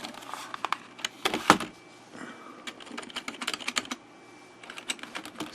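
A colorful vintage computer keyboard is typed on in irregular bursts of light, close key clicks, with one louder clunk early on and short pauses between flurries over a low background hum.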